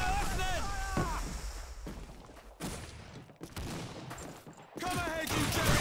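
Gunfire and shouted commands in a Call of Duty 2 battle against British troops near an anti-tank gun, dense bursts of shots and explosions under loud game voices.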